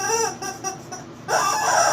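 A dog squeaks a rubber chicken toy repeatedly, producing rapid, squawking honks that sound like clucking, loud and close, with a longer squeal at the end.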